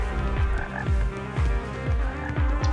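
Frogs croak in a steady, repeating rhythm of loud, close calls, roughly one every half second, with no voices over them.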